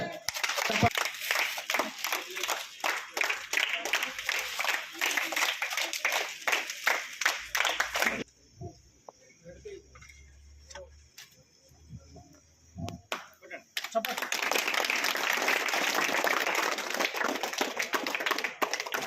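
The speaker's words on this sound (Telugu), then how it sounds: "చప్పట్లతో" Hostel schoolboys and guests at a government event clap loudly and close by, with two bursts of dense, rapid applause separated by a quiet gap in which a voice briefly speaks.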